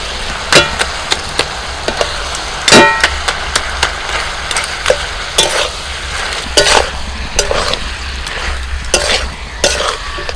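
Fried fish head stirred into a pot of simmering ridge gourd, with repeated sharp scrapes and clacks of a spoon against the pan over a steady low sizzle, close and fairly loud throughout.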